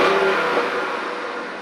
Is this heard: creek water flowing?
no